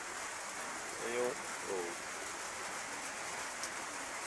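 Rain falls steadily with a constant soft hiss throughout, and someone briefly speaks a couple of words close by.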